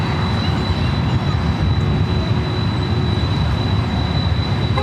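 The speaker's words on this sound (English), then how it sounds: "Do have another Delta 767-400ER preparing for takeoff on the 24 left." A Delta Boeing 767-400ER jet on runway 24 Left at LAX, its engines producing a steady, loud, broad roar with a faint high whine held throughout, no voices.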